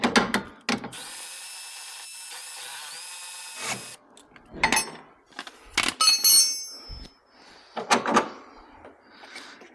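Power drill whirring in short bursts during Porsche 911 (996) lower control arm and sway bar link replacement, one long high whine near the start, then brief spurts mixed with clunks and handling knocks.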